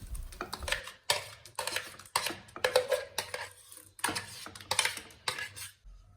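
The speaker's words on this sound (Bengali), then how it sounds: "আর এই ঘিয়ের মধ্যে দিয়ে দেবো গাজরের মিক্সগুলো।" Carrot mixture being stirred in ghee in a wok, heard as a quick series of sharp spatula scrapes and taps on metal, close up, in irregular bursts separated by short pauses.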